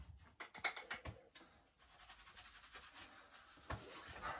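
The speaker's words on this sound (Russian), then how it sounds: "я их сейчас прохожу кисточкой, и краска как бы проникает в самые щелочки" A paint brush working paint into the cracks of an old wooden windowsill, giving close, quiet scratchy rubbing strokes in an irregular rhythm, with a few sharper scrapes.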